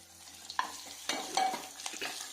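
Crushed garlic cloves frying in hot oil in a pan for onion pulusu, a soft steady sizzle with a few brief stirring scrapes, close and fairly quiet with no talking.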